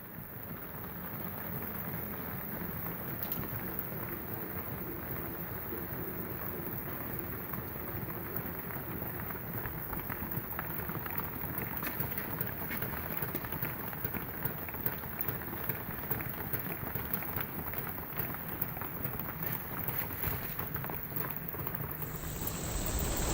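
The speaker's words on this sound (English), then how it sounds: "I took a video of the rain" Rain falls steadily on the cover of a backyard compost tumbler, a continuous soft hiss of drops with no letup, fairly faint and unaccompanied by talk.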